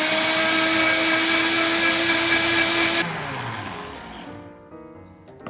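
A blender mixing a spinach smoothie whirs loudly at a steady high pitch for about three seconds, then cuts off and spins down to quiet.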